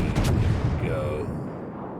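HMS Vanguard battleship main guns firing in World of Warships, a heavy booming salvo up front followed by a long rolling rumble that fades, with a voice talking over it.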